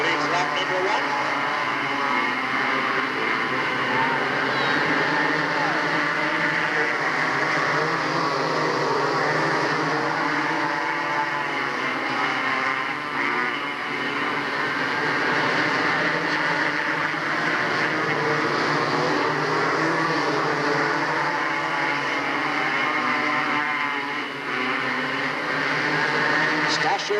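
Stock cars race at Delta Speedway in 1997, a dense continuous roar of engines that runs throughout under steady announcer commentary.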